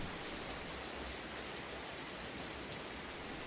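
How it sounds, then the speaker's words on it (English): Rain falls steadily outdoors as a dense, even hiss with no other sounds, fairly quiet and unbroken throughout. "I like the sound of rain and the smell of rain"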